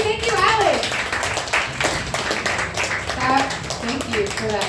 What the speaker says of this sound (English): Let's clap Alex as he walks to his seat.